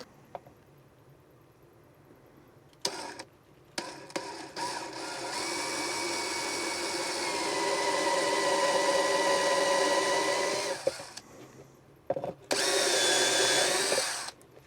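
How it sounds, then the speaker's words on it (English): A power drill with a small bit whirs into plastic for several seconds, its pitch steady and close, with short bursts before and a final quick spin at the end. "We'll take a small drill bit first, drill the first hole"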